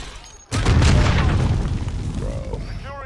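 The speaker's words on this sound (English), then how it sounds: "Flashbang out." A flashbang stun grenade detonating in the shooter game Modern Warfare, one abrupt loud boom that rolls into a long ringing, rumbling decay, with faint game voice chatter around it.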